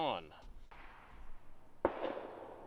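A single military surplus rifle fires at an outdoor shooting range, one sharp crack with a short decay following brief, quiet speech, then another abrupt report cut off at the very end.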